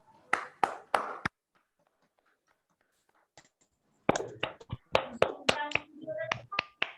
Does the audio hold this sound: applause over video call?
yes